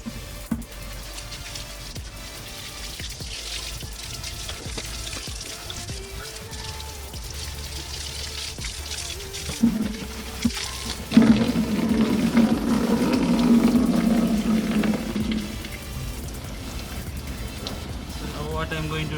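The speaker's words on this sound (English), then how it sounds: "Now time to remove all the dirty water from here." Dirty water draining and splashing from a washed Rynox Air Evo GT riding jacket at home, a gurgling trickle and pour that grows louder midway, with a voice speaking over it.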